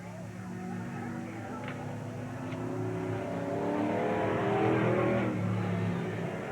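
A Volkswagen-engined race car on a qualifying lap at Willamette Speedway in 1987 drones steadily, its engine note swelling louder toward the middle as it passes, with a faint voice underneath.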